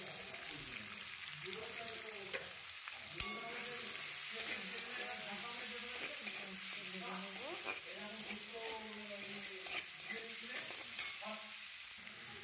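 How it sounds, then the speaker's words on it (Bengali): Onions fry in hot oil in a wok while being stirred, making a steady close sizzle with soft scraping, and a voice talks over it throughout. "তেলের মধ্যে দিয়ে দেবো এবার পেঁয়াজ। পেঁয়াজটা একটু ভাজা ভাজা হয়ে করে নেবো।"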